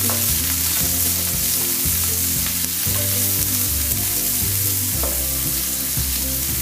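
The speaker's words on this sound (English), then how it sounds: "After the onions, I'll add the carrots. I'll cook for around another 30 seconds." Onions and carrots fry in a pan with a loud, continuous sizzle and crackle that holds steady throughout, with no talking.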